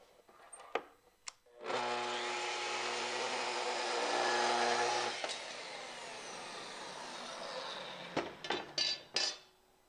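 A power saw trims about half an inch off the end of a wood piece, a loud sustained whine lasting several seconds, bracketed by clattering knocks and handling bangs, close by with no talk.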